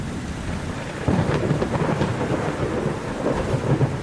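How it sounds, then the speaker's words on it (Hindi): Cartoon thunderstorm with heavy rain: a dense, steady roar of downpour with low rumbling thunder swelling in after a moment, continuous and loud with no voices. "थोड़ी ही देर में तूफान के साथ साथ तेज बारिश भी शुरू हो जाती है"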